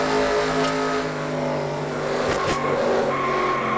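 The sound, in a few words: race car skidding and crashing in racing video game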